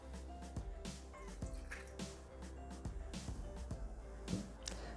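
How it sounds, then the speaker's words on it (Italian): Milk is poured into a Thermomix mixing bowl for a tuna plumcake batter, with a steady liquid pour and repeated soft splashing drips over a low background hum. "Aggiungiamo adesso il latte."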